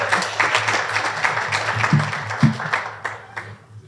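An audience at an education talk breaks into applause, a dense, steady patter of many hands clapping at moderate volume that thins out and fades toward the end.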